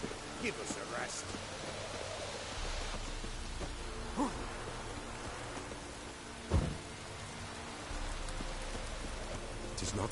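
Rain falls steadily in The Witcher video game, a soft, continuous hiss with a few low thuds mixed into the quiet background.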